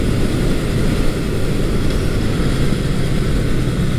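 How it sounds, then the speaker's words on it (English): A cold Honda CB750 motorcycle engine idles steadily, a continuous low-pitched rumble with an even throb held close and loud throughout, with no talking over it. "And then just steady state running here."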